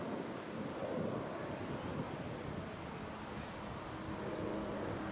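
Wind picks up outdoors on a countryside walk beside a recreation ground, a faint, steady rushing gust with soft buffeting against the microphone and no talk.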